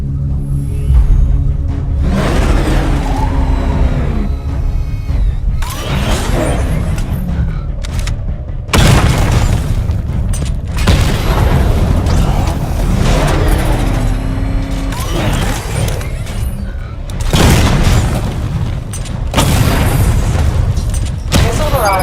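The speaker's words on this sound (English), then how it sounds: "Destroy targets to charge up weapon energy and activate missile barrage." Heavy booming missile barrage explosions in Batman: Arkham Knight, arriving in several loud, dense bursts with a rumbling vehicle engine underneath and brief quiet gaps between volleys.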